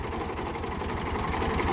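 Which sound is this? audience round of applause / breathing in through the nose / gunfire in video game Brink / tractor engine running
tractor engine running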